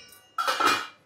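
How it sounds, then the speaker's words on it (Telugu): Metal lids knock against cooking pots in a home kitchen, a short, close run of clinks and clatter after a moment of quiet. "ఇలా మూతలు ఇస్తారు, ప్రతి గిన్నెకి మూత ఉంటుంది"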